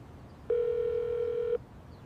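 An outgoing call to Liam produces a single steady ringback tone, one clean sustained beep of about a second rising out of quiet background hiss, with no talking.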